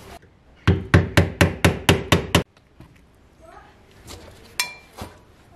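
A small hammer tapping the lock tabs on a Citroën 2CV brake drum: eight quick, evenly spaced metallic knocks, close and loud, followed by quieter shuffling and a couple of faint clinks.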